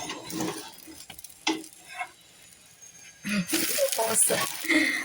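Moong dal chilla (mugache dhirde) frying in a pan gives a soft, steady sizzle with light scraping and stirring, growing louder near the end as it is flipped, with a voice talking over it at times.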